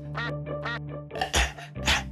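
A cartoon duck quacks in quick bursts, three nasal quacks followed by a few louder, harsher ones, close up with no talking, from a Bangla kids' cartoon show.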